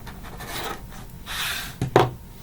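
Fabric quilt block being trimmed, likely with a rotary cutter along a ruler, makes soft rubbing, scraping strokes close by, ending in two sharper cuts, with no talking.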